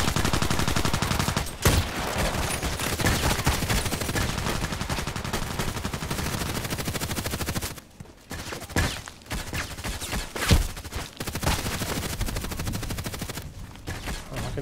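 Rapid sniper rifle shots from an AIAWMF in the online shooter Contract Wars crack out in dense, loud repeated bursts, with brief pauses near the middle and a few isolated reports toward the end.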